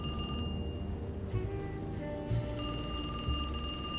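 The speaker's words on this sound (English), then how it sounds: "phone's ringing" Telephone bell ringing in the 2024 video game Alone in the Dark, a steady repeating ring over game ambience, fairly loud and alone with no talk.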